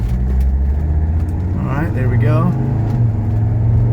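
A Mercedes 300CD engine accelerates uphill as a steady, loud low drone inside the car, with the pitch rising and falling briefly during a gear change. Someone talks over the engine.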